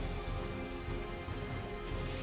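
Steady, soft rain falls as continuous background ambience beneath tabletop role-playing narration, a dense even patter with no distinct drops standing out.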